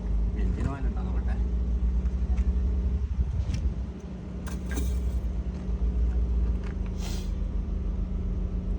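A car engine in Qatar runs steadily as a low, continuous rumble with a faint ticking, close by, while a person talks over it and some light clatter occurs.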